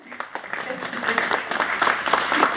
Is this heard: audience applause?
yes